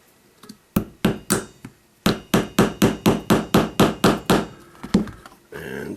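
A hammer strikes a punch to drive 1/8 by 9/16 inch roll pins into a modular bipod kit, giving a run of sharp, loud metallic taps in a quick, steady rhythm with short pauses, close up and with no talking.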